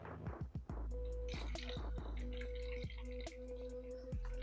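Water poured from plastic water bottles in a shed gives soft dripping and trickling, with several sharp plinks and glugs early on, then a steady low trickle with occasional drops.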